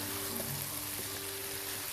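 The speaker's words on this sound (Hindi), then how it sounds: "इनको अच्छे से मिक्स करते हैं और भुनाई करते हैं इसमें" Potatoes and fenugreek fry with spices in a pan, giving a dense, even crackling sizzle with no talk.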